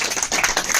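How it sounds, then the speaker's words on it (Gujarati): Audience applause at a business seminar: a brief, close burst of many hands clapping together, dense and fairly loud, with no talk over it. "તો જોરદાર તાળી સાથે"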